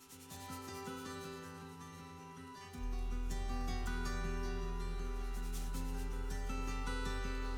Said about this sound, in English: the Quickwood will have to be sanded with like an 80 or 100 grit sandpaper first